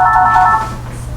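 A telephone rings through a University of Pennsylvania phone system and speaker, one electronic warbling tone burst that cuts off partway, loud and close, with no talk over it.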